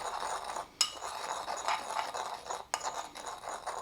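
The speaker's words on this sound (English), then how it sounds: "I'm just going to stir it up." A spoon stirs a spice rub with freshly ground pepper in a bowl for Asian-style ribs, a steady scraping swirl with two sharp clinks against the dish, close and moderately loud.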